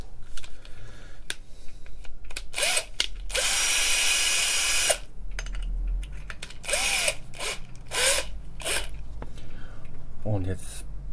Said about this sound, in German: Jetzt hole ich den Akkuschrauber.